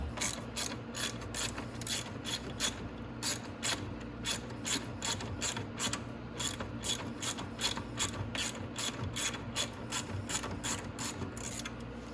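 A ratchet loosens 8mm bolts on the front bumper of a Venom 125cc Grizzly ATV: steady, rapid, close-up metallic clicking in regular strokes over a low background hum.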